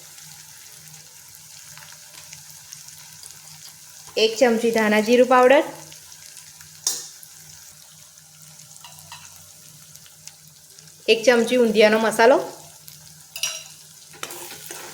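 Spice paste frying in a pan for a Gujarati dana muthiya nu shaak, with coriander-cumin powder and undhiyu masala added, making a low sizzle and stirring scrapes, interrupted by two stretches of speech.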